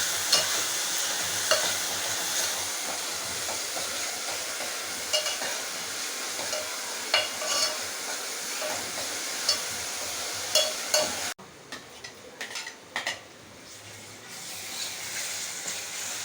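Onions fry in hot oil and are stirred until golden brown for a vegetarian liver-style gravy, giving a dense, steady sizzle with scattered spatula scrapes that drops to a quieter hiss near the end.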